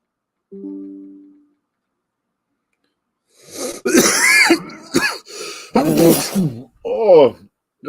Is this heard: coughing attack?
yes